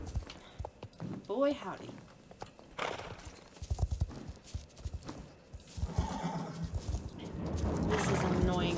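Horses in the Star Stable game clip-clop with rapid hoof beats, snort and whinny, while a person talks over them; the hooves thicken toward the end as the horses speed up.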